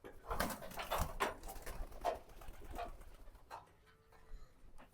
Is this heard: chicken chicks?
no